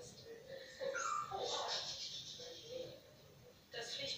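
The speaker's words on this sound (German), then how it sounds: "Das Pflichtprogramm Stress für den Hund." A young Podenco dog at the vet whimpers and yips in short, high, strained cries that rise and fall, with a final whine near the end, fairly faint and close.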